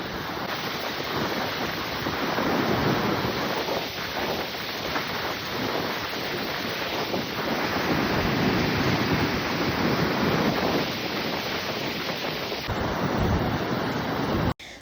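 Mountain river on the Ralam Glacier trek, a loud constant rushing roar of fast water heard close and alone, steady throughout before cutting off at the end.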